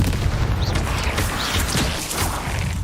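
An explosive Confringo spell blast from Hogwarts Legacy, loud and dense with booming low rumble and crackling debris filling the whole stretch without pause.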